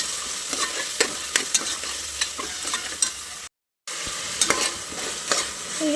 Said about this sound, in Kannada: ಫ್ರೈ ಮಾಡ್ಕೋಬೇಕು ಲೋ ಫ್ಲೇಮಲ್ಲಿರಬೇಕು